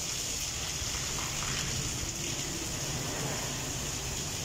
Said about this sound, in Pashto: دغه باران لګیا د خیر سره